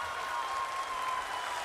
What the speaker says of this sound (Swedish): Vilket jubel!